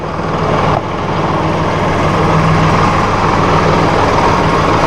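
Massey Ferguson RK702 TR SDX rotary rake running off a tractor PTO, giving a steady, loud, close engine drone with a low mechanical hum that carries on without a break.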